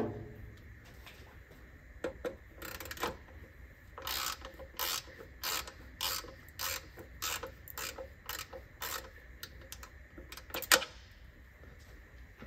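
A ratchet wrench works a corroded transmission drain plug bolt loose on a Land Rover Discovery, giving a faint, evenly spaced series of clicking strokes with brief pauses, no talk.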